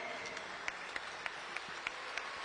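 Applause for the Kisii team at a political gathering, a steady crowd-wide clapping wash with a few sharper individual claps standing out, heard from a distance in a large space.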